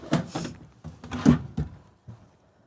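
Several short knocks and slides of RV drawers being opened and shut nearby in a Jayco Seneca 37TS motorhome, a few quick bumps spaced irregularly with no talking.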